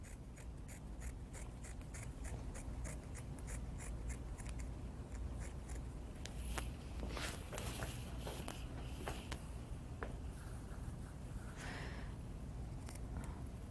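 Scissors trim excess material from a T-shirt in a quick series of crisp snips, evenly spaced at first and then looser, close and fairly quiet against a steady background hum.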